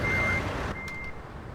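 A truck's reversing alarm in American Truck Simulator beeps in a steady high tone, then stops as the engine idles on with a low rumble, with a brief air-brake hiss.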